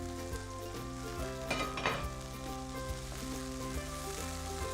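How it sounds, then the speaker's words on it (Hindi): A tadka with tomatoes fries in a pan for a Pakistani dum pukht recipe, giving a continuous, fairly quiet sizzle with occasional stirring scrapes and clinks, and no talk. "ये हमारा जो तड़का है वो पक रहा है। टमाटर हमने डाल दिए थे इसमें।"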